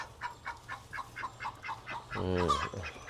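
Ducks on a farm in San Diego give a steady series of short, nasal quacks in an even rhythm, close by, ending in a louder, drawn-out honking call.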